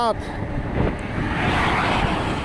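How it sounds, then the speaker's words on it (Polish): Strong wind buffets the microphone in a continuous loud roar while cycling on a new bike path, steady and close, with a brief voice at the start. "Wiać to wieje już. Mocno."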